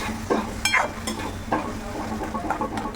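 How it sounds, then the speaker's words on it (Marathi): Lasuni methi, a garlicky fenugreek vegetable dish with tomato puree, sizzles in a pan while a spoon stirs it, with a few distinct scraping strokes over a steady low hiss and no speech. "आणि हे छान एकजीव होईपर्यंत आपल्याला हे परत परतत राहायचं आहे"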